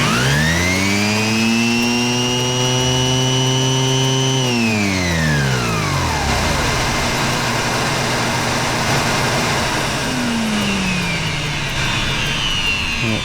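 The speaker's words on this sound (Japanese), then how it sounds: "工具のスイッチのねオンオフだけで連動してね集塵機が動いてくれるんでね" A workshop dust collector wired to switch on and off with a power tool hums with a loud, steady harmonic whine, then winds down in pitch while a broad rushing noise carries on, close and strong.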